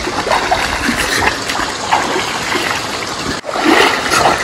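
Water flowing and trickling steadily at an outdoor swimming spot, a loud continuous close-up rush with no talk.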